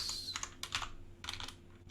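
Typing on a computer keyboard while writing code for a programming-language lexer: soft, close clicking keystrokes in two quick clusters with a brief pause between them, faint and without talking.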